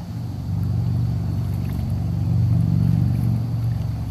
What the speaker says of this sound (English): Too near the highway though, you can hear a motorcycle go by.